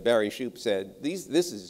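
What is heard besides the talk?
None of the usual background noises is heard.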